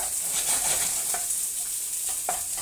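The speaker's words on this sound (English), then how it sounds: "now that these onions are working around real nice, we've got some nice sound coming off of there" Onions sizzle steadily in a hot pan, a continuous crackling hiss with occasional soft pops, close and fairly loud.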